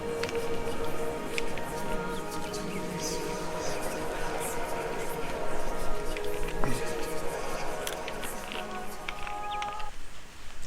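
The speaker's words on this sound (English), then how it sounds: "It's raining now." Steady rainfall in a fantasy online game world, a continuous soft patter of drops with a faint background music tone running beneath it, ending with a brief dip.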